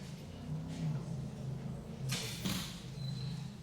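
A single arrow released from a bow in a women's bowhunter freestyle archery competition, a sharp whoosh and snap standing out over a low background hum, with no talk.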